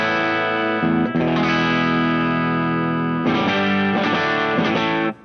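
Electric guitar on its bridge pickup through distortion effects, loud sustained chords ringing out, then a run of choppy, rhythmic strummed chords alone without talk.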